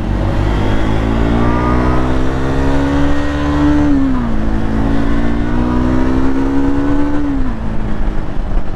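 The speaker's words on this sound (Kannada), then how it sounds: "ನಾನು ಸ್ಕ್ರಾಂಬ್ಲರ್ ತೊಗೊಂಡು ಹಿಂದೆ ಓಡಿಸ್ತಾ ಇದ್ದೀನಿ." A Triumph Scrambler 400X motorcycle ridden off road, its engine droning loud and steady throughout with pitch rising and dipping as the throttle shifts, heard up close without speech.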